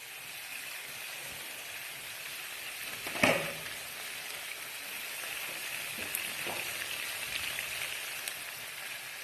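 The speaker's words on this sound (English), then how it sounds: "I'm going to fry my washed and dried rice" Washed and dried rice frying in a pan with onion and ginger garlic paste, a steady soft sizzle throughout, broken by one brief clatter near the middle and a few faint stirring scrapes later.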